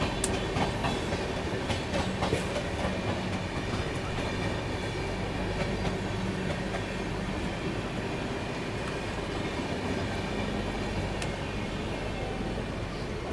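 Jan Shatabdi express from Kota to Hazrat Nizamuddin running on rails, heard as a steady loud rumble of wheels and carriages with faint clickety-clack throughout, no voices.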